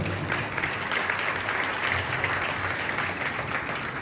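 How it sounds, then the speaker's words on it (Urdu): Loud applause from a Good Friday church congregation honouring Jesus, a steady wash of clapping that stays even and unbroken for a few seconds with no voice over it. "یسوع کے جلال کے لیے زوردار تالیاں"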